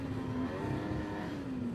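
Older Yamaha snowmobile engine droning steadily while riding a rough trail, a close, continuous buzzing note with no talking over it.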